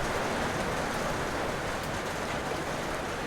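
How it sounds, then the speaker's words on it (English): Heavy rain pours down steadily near Baloy Beach, a dense, even hiss with no breaks and no voices over it. "it's coming a bad rain over here"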